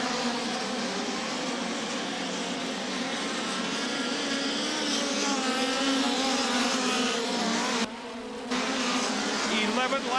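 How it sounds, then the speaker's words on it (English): Midget race cars roar around the dirt oval at Federated Auto Parts Raceway at I-55 in a POWRi National/West Midget League race, a loud, continuous high-pitched engine whine that briefly drops out near the end before rising again. "Pulls up a right behind Zach Dom going into turn number 3"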